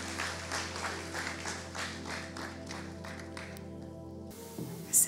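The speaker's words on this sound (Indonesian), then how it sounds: "Kita beri tepuk tangan yang meriah bagi nama Tuhan" A church congregation at a Sunday service applauding in a sustained, fairly distant round of clapping over soft background music, fading out near the end.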